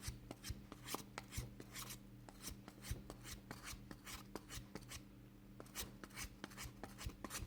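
Quick, rhythmic rasping strokes of 600-grit sandpaper rubbing against a plastic 1/24 scale model car part, steady and close, with a low hum underneath.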